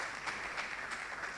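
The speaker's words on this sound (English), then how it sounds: "Please, a big round of applause for Prof." An audience at a leadership forum applauds to welcome Professor Philip Duku Osei, giving a brief, steady wash of clapping that is moderately loud and continuous.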